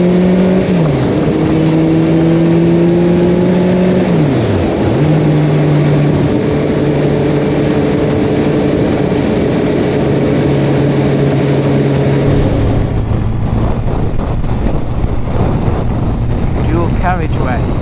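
Kawasaki ZZR1400 motorcycle engine picked up by a front-mounted external mic while riding on a carriageway, its pitch climbing and dropping through gear changes under heavy wind buffeting, later settling to a steadier drone with louder wind noise.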